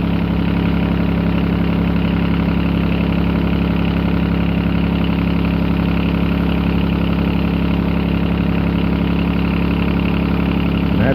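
A Perkins 3-cylinder diesel engine idles steadily and loudly up close, a constant low rumble with an even throb that holds unchanged throughout, with no talking over it.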